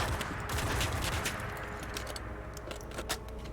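A World War II style gun is reloaded in a modded Fallout 4: quick mechanical clacks and metallic rattles pile up over a dense, loud gunfire-like background, with a sharper snap near the end and no voices.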